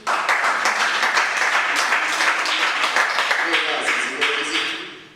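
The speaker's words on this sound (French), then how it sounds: "Applaudis pour lui, non?" An audience at a talk applauds in a thick, continuous wave of clapping lasting about five seconds, with voices audible over the tail as it fades.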